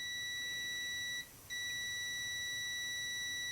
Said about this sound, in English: So doing the beep test, the continuity test all the way through